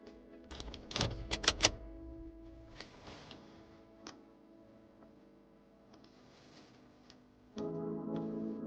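A 2016 Toyota Levin's door locks actuate after the lock button is pressed, producing a quick cluster of sharp mechanical clicks and thunks, close and fairly quiet, with a few softer ticks afterward.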